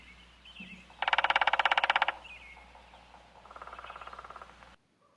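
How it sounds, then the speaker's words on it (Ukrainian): A woodpecker drums on a tree in a snowy winter forest: one loud, fast burst of rapid taps lasting about a second, then a second, quieter roll shortly after. "ось хтось стукає дзьобом по дереву"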